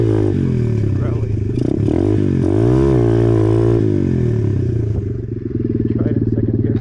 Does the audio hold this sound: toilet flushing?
no